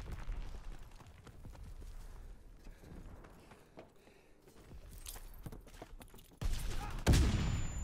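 Sawed-off shotgun fire in Call of Duty WW2 online gameplay: a run of sharp shots and explosive bursts amid game action, ending in a loud, heavy blast.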